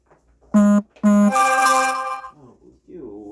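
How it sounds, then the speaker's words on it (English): A phone ringing with an incoming call during a live stream gives two loud electronic tone bursts, followed by a brighter, buzzy ringtone passage that fades, with faint murmur near the end. "I am getting phone calls because I forgot to put it into do not disturb mode before I got started"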